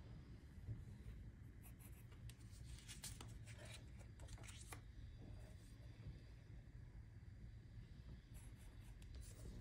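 A pen or pencil writes numbers on a paper answer sheet for a homemade math board game, producing faint scratchy strokes in short bursts against a quiet background.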